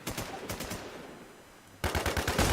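Rapid bursts of automatic gunfire from the video game Infestation, with a stutter of shots at the start, a short lull, then a louder, sustained volley at close range. No voices.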